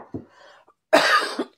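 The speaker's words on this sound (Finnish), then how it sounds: "Anteeksi yskittää." A person coughs while talking about ironing at home: one short cough, then a louder, rougher cough burst about a second later, close to the microphone with no speech over it.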